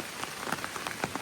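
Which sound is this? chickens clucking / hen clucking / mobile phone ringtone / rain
rain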